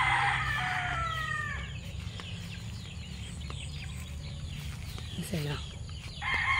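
Chickens cluck and a rooster crows near a brood of newly hatched chicks at a small farm around sunset, loud calls at the start and end with softer peeping and clucking between, while someone speaks briefly.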